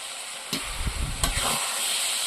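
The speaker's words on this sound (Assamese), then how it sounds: "বেঙেনা আৰু মাছৰ কণী ভাজি হৈ গ'ল" Eggplant and fish roe fry in a pan, hissing and sizzling steadily, with a couple of sharp stirring scrapes and soft clatters close by, no talking.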